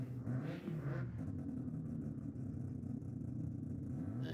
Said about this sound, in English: Little Commodore down there, maybe a supercharged V6 by the sounds of it